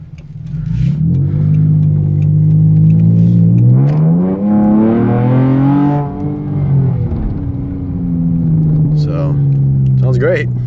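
2012 Dodge Charger SXT 3.6L V6 with Magnapacks exhaust and a K&N intake, heard from inside the cabin with windows closed as a deep engine note climbs through a rev, eases, then settles back toward idle.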